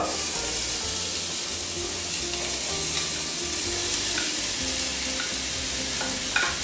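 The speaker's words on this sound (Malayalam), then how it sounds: "എണ്ണ ചൂടായി കഴിഞ്ഞാൽ ആദ്യമായി സവാള അതിലേക്ക് ഇടുക" Chopped onion drops into hot oil in a heavy pan and fries with a constant, close, loud sizzle throughout, with faint tonal sound in the background.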